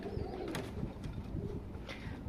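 Breeding pigeons in a home loft coo softly, several low rolling calls overlapping at a fair distance, with a few brief sharper flutters or taps scattered among them.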